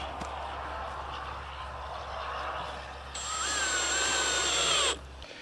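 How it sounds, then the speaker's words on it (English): A power drill drives a screw to fix a hip board onto a Quonset greenhouse frame, a rising whine that runs for a couple of seconds and then stops, set against a low steady background hum. "once you're sure you're level, we're just gonna screw it into place"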